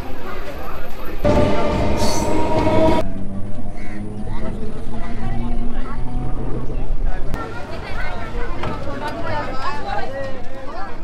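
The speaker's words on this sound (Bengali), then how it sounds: "এখন ফাইনালি রানাঘাট থেকে ট্রেন আসলো।" A delayed train pulls into Ranaghat station, sounding a loud horn blast early on amid a steady rumble and busy platform crowd chatter.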